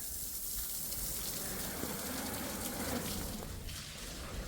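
Water sprays from a hose pipe while a Kia and a Creta are being washed, a soft continuous hissing gush heard faintly from a distance.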